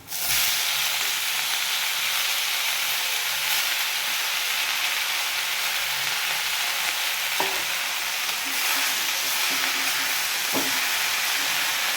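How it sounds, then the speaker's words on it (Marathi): Chopped leafy vegetable dropped into hot tempering in a pan, giving a loud, continuous close-up sizzle and hiss that holds steady, with a few faint clinks of stirring. "आपली फोडणी तयार झाल्यानंतर आपण त्यात भाजी घालणार आहोत"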